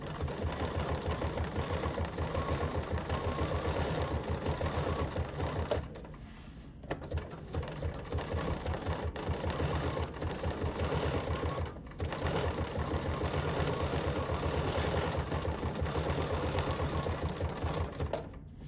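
A sewing machine runs a zigzag stitch around fabric appliqué leaves on a notepad holder, a close, steady rapid mechanical chatter in long runs broken by two short pauses.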